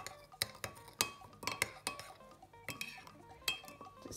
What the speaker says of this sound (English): sprinkle on my I would say about half the packet of the yeast, and then I'm going to mix that together